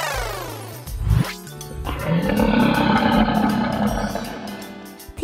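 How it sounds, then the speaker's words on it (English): A dinosaur roar sound effect rises into a deep, rumbling, drawn-out roar that swells loudly and holds for several seconds before tapering off, with no voices. "That was the roar of a dinosaur."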